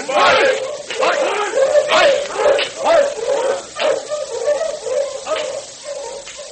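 Sled dogs bark in a vintage radio drama, a steady volley of loud, repeated barks and yelps under a busy, noisy mix that suggests a crowd, continuing throughout.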